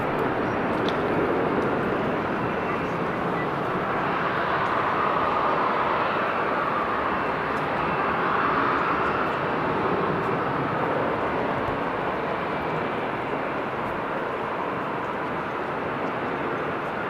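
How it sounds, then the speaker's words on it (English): An airliner's engines roar in a long, sustained, fairly loud wash of broadband noise, steady throughout, as it takes off from runway 24. "So I guess it's going to take off from runway 24."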